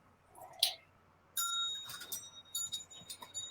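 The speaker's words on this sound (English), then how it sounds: "So let me find my bell." Small bell dings start a chili-eating competition round: one bright ring, then a sharper cluster of rings and clinks follows after a short pause, faint against a quiet room.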